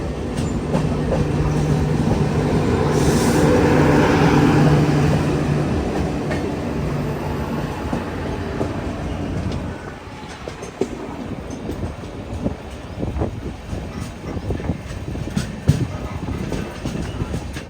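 An express train rumbles steadily along the rails with rhythmic clacking, loud and close, heard from inside a 3AC coach, the rolling noise easing slightly partway through.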